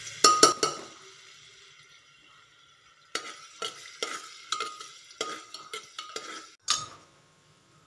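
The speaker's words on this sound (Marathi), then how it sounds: "तेल गरम झाल्यानंतर ना अद्रक लसूणची पेस्ट टाकायची." Ginger-garlic paste fries in hot oil in a pressure cooker. A short burst of sizzle and metallic clinks comes first, then a pause, then repeated stirring scrapes and spatters in uneven bursts, close by.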